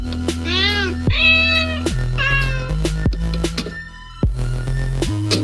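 A cat meows several times in quick succession, loud and close, each call rising and falling in pitch over a low sustained musical backdrop.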